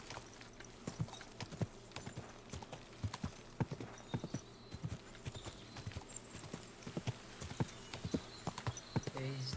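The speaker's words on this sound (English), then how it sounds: "I swear this horse is exactly like the fucking one from the Lone Ranger" Steady clip-clop of horse hooves trotting in the video game Kingdom Come: Deliverance II, a quick regular rhythm of close, crisp hits continuing throughout.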